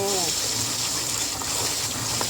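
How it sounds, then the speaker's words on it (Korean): Shredded lettuce is rinsed under a running kitchen tap, a continuous gushing splash of water; a voice is heard briefly at the start over the flow. "상추는 채썰은 상태에서 흐르는 물에"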